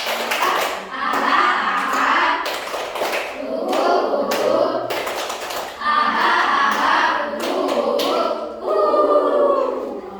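Classroom of students performing the Tepuk India clapping routine, rhythmic bursts of group clapping in several phrases with short pauses, mixed with children's chanting voices.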